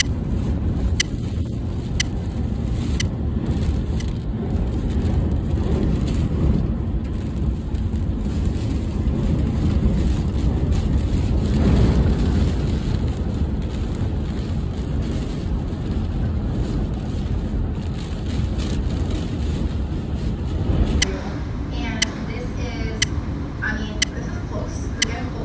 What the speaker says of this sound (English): We're at excess 60 mile an hour wind.